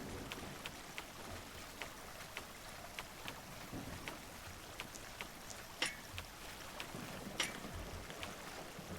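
Water runs along a forest road in the game Drainsim, making a steady, soft rushing wash with small periodic clicks and splashes, and nobody speaks.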